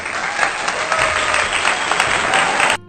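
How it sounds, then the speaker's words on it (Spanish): A brief burst of dense applause, loud and even for nearly three seconds before cutting off abruptly, heard alone with no talking. "Aplausos, señorita directora."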